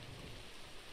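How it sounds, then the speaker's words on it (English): Steady rain pours in the game Red Dead Redemption 2, a dense, even hiss with low rumbling beneath suggesting distant thunder, filling the short moment without any voices. "It started raining."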